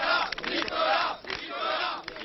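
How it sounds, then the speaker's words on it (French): Young UMP party supporters cheer loudly for Nicolas Sarkozy at a political summer rally, a dense crowd roar that swells, dips briefly and rises again. "C'est lui que les jeunes de l'UMP veulent applaudir aujourd'hui."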